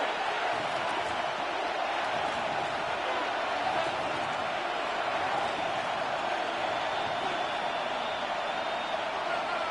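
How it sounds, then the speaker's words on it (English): Football stadium crowd on third down, a dense, distant, steady roar of cheering and noise that holds evenly throughout. "This crowd into it now as we get to third down"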